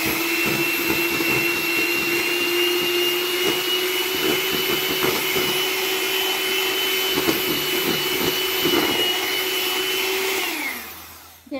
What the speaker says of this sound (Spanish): Y vamos a batir de nuevo con la batidora.